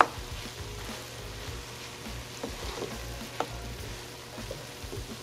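Cooked rice and meatball mixture warming over low heat in a pan, a soft continuous sizzle with occasional light stirring clatter, fairly quiet and close, no talking.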